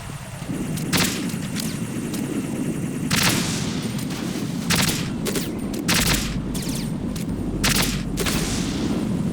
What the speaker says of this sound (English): Two-shot burst rifles.